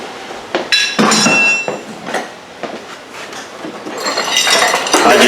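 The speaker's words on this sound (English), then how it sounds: "I just used a chain wrench to wrap it around the pulley because I didn't have the holder tool" Metallic clanks and clinks from a chain wrench wrapped around the pulley while loosening the fan clutch on a 2007 Range Rover 4.2 Supercharged, several sharp hits at irregular intervals, close up in a workshop.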